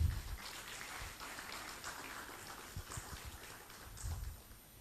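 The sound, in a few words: conference audience applause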